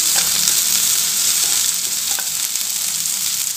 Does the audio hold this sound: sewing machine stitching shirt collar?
no